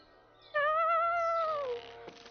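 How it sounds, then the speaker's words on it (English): A cat gives one long, rising then falling meow, close and clear, followed by a soft thump near the end; no one talks. "Is it cat time? Is it meow time?"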